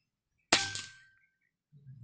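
One sharp, loud shot from a Bocap 500 cc air rifle at a 30-meter target cracks out and fades quickly, then a low hum rises briefly near the end.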